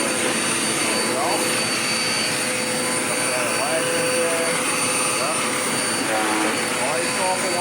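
A Dirt Devil Power Max vacuum cleaner runs continuously, a loud, steady motor roar and whine that holds at one level throughout, with a voice talking faintly underneath.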